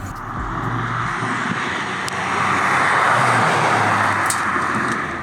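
A car approaches on a private mountain track, its engine rising from a faint hum to a steady, louder broadband rush as it nears, heard alone without talk.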